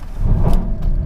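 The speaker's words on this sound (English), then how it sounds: "bit of wheel spin there." A Volkswagen Golf GTE plug-in hybrid with a 1.4 TSI engine spins its wheels as it pulls away, giving a brief, loud burst of road and drivetrain noise heard from inside the car.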